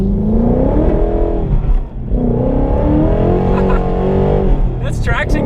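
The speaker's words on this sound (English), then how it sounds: "That exhaust sounds nice." A large car's exhaust drones and rises as it accelerates, a loud, close engine note swelling and dipping, with someone talking over it.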